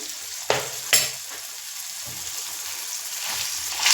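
Green chilli dropped into a hot pan of peeled tomatoes crackles and sizzles steadily, with two sharp stirring clanks near the start and a continuous close frying hiss throughout.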